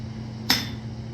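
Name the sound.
hammer blows on an anvil in blacksmithing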